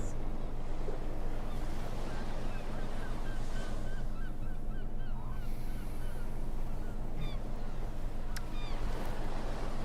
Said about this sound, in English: Aaron is very quietly in the background playing sea sounds and gulls